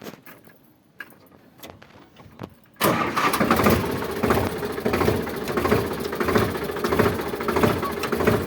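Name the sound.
Sonalika tractor engine starting and running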